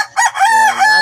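A very large backyard rooster of a new bloodline crows once, loud and close, in a single drawn-out cock-a-doodle-doo.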